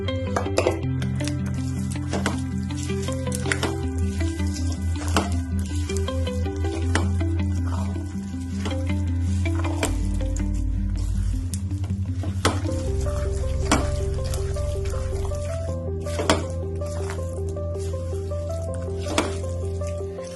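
Pumpkin and melon seeds dry roasting on a low flame for winter laddus, a steady soft sizzle with frequent sharp stirring scrapes and clinks close by, under a constant background hum of music with no talk.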